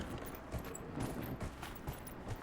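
Hoofbeats of a horse on the move in the fantasy video game Dragon Age Inquisition, a quick, fairly faint rhythmic clip-clop.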